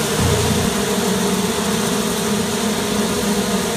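Honeybees fan at the entrance of a bee box, making a dense, steady droning buzz close by that holds evenly throughout without pause.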